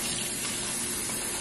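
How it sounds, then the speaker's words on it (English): Hot water from a sink tap gushing into a plastic bag of frozen shrimp, a steady, loud, close pour with no talk. "So just put some hot water in the bag."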